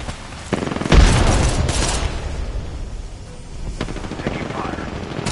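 Gunfire in Apex Legends crackles in rapid bursts, loud and near at first, then dropping behind a steady din of game noise before more shots return.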